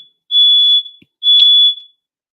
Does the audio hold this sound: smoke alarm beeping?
yes